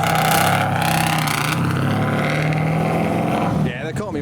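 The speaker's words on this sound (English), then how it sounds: "It sounds like it's completely straight piped, although is there a bit of silencing there?" Straight-piped engine, probably a Rover V8, in a Toyota Chaser, giving a loud, raw, sustained drone with a deep rumble, easing off near the end as a voice cuts in over it.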